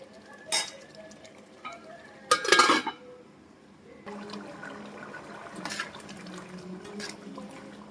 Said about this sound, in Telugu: ఒక టూ మినిట్స్ మూత పెట్టుకొని మగ్గించుకుందాము